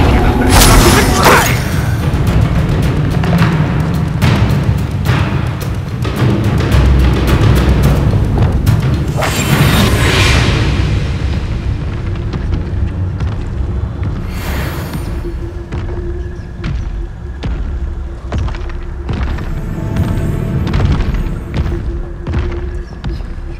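Confringo blast spell firing in the Hogwarts Legacy video game: loud booming impacts and thuds in a dense, busy combat mix, with sharp bursts recurring throughout and a voice briefly audible.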